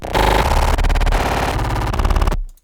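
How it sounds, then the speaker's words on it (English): Big crunchy kick drum, bit-crushed or wave-shaped, buried in loud glitchy electronic noise: a dense, harsh, distorted wall with stuttering chopped segments that cuts off abruptly near the end. "which again is this big crunchy kick"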